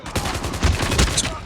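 Rapid automatic gunfire from a weapon in Call of Duty: Mobile, a steady fast stream of loud close shots with no pauses.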